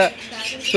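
A newly bought pet bird, said to talk, gives a single short squawk up close, with a brief harsh call at the start and another at the end and a quiet pause between.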